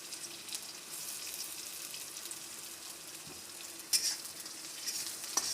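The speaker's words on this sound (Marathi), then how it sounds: "कांद्याला पण तेलामध्ये असं फ्राय करून घ्यायचं लालसर होईपर्यंत" Onion frying in oil for a spicy pasta Maggie dish, a steady close sizzle with a couple of sharper crackles and spatters near the end, no voices.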